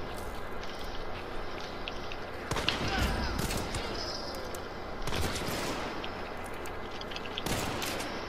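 Rapid bursts of gunfire from the Hunt video game, with heavy volleys near 2.5–3.5 s, 5 s and 7.5 s over a constant dense background of battle noise; no speech.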